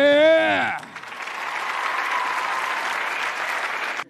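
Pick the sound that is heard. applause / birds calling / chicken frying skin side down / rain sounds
applause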